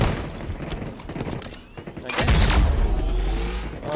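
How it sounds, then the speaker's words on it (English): Grenade blast in the shooter game Halo Infinite, a loud booming burst hitting mid-clip after scattered gunfire, then a sustained low rumble as the explosion rolls out. "Tossing a nade just in case."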